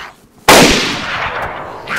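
A single loud gunshot from the video game DayZ cracks out suddenly, then its echoing tail fades over the next second and a half.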